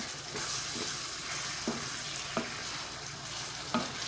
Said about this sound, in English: Let the onions cook a bit.